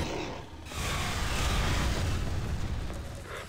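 A grenade explodes in Half-Life 2, a loud broadband boom that swells after a brief lull and rolls on for a few seconds with a dense rumbling tail.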